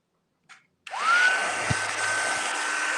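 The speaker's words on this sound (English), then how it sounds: "I'm going to try to heat set this with my heat tool now" A crafting heat tool is switched on to heat-set ink on a card, blowing a steady loud whoosh with a rising whine after a brief click, then running evenly to the end.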